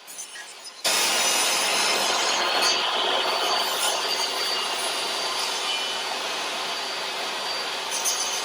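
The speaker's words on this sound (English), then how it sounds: "I then cut those boards down to length" A power saw cuts through old, warped wooden deck boards, starting abruptly after a short quiet lead-in and then grinding steadily and loudly for several seconds with no talk.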